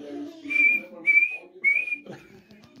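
A whistle gives three short, shrill blasts at a steady high pitch, spaced about half a second apart and heard close by over a low background rumble.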